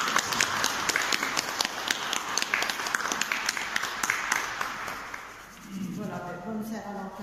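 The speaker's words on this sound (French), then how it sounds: "je propose qu'on l'applaudisse encore," A church congregation claps during a Valentine's Day mass, a dense burst of hand claps fading out after about five seconds, followed by a voice speaking.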